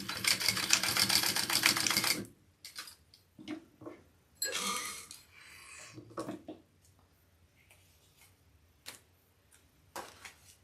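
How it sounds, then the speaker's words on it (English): A sewing machine runs a quick burst of stitching along webbing for a mini scout bag, then gives way to scattered close ticks, clicks and handling noises. "I'm going to do that extra little stitch along the webbing here"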